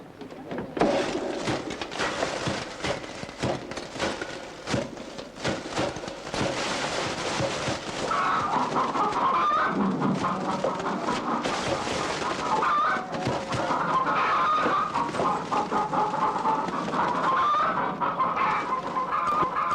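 Chickens cluck repeatedly in a farmyard scene from a Turkish film, a steady close chorus of fowl with no talk over it.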